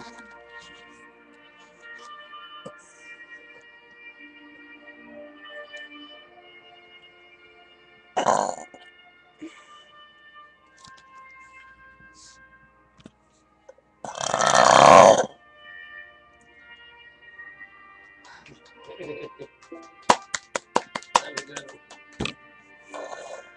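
Burps after drinking Coca-Cola: a few separate loud belches, one short and one longer and stronger, then a quick run of sharp clicks and small noises, with quiet stretches between.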